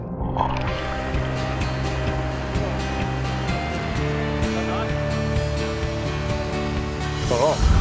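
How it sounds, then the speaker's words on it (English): Loud, continuous rushing of river rapids as four-wheel-drive vehicles ford the Snowy River, the churning water mixed with a low engine drone throughout. "We're just at the rapids here."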